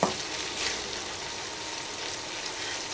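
Sausages fry in a pan, giving a steady, soft sizzle and crackle that holds evenly throughout, fairly quiet and close, with no one speaking.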